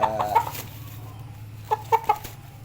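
Shamo gamecock chickens cluck nearby in short bursts, a few quick calls at the start and another cluster near the end, over a low steady hum.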